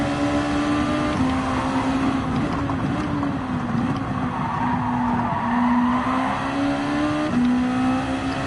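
Race car tires squealing in a long skid under late braking in Gran Turismo 7, loud and steady over a droning engine with no talk.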